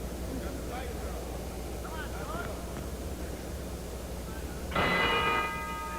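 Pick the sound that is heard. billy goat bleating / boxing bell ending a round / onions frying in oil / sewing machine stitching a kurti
boxing bell ending a round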